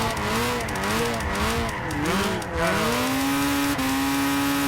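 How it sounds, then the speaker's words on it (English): An old Ford station wagon drifting on a dirt road in Gran Turismo 6, with loud sustained engine whine and tire skidding that sweeps up and down in pitch, continuous and close, with no talking. "Yeah, I was drifting that on a dirt road."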